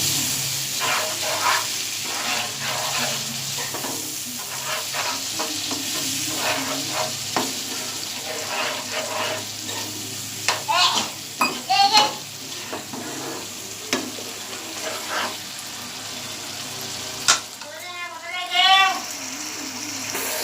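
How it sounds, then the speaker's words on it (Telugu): Water poured into a pan of rajma kidney beans sizzling on the stove, bursting into a loud, close hiss and bubbling with stirring scrapes, then settling to a steady simmering sizzle, with voices talking over it at times. "ఇప్పుడు మనం కొంచెం వాటర్ వేసుకోవాలి."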